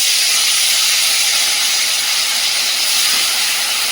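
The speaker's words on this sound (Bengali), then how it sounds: "আর এদিকে কড়াইটা গরম হয়ে গেছে, মাছগুলো ভেজে নেবো" Big fish belly pieces fry in a hot wok with oil, making a loud, steady, hissing sizzle that stays even throughout, with no voices over it.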